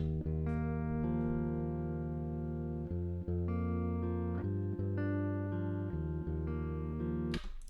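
A lone guitar plays a melody of held, sustained notes, one single line with no doubling, steady and fairly loud with no voices.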